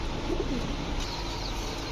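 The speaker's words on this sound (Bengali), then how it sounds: "এটা হচ্ছে রাজশাহী সবজি নর কবুতর আর রাজশাহী সবজি মাদি।" Rajshahi Sabji pigeons, a male and a female, coo softly a few times against steady background noise.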